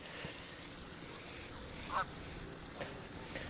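A few goose honks ring out over a steady wash of background noise beside Lake Illinois, one louder call near the middle and two softer ones after.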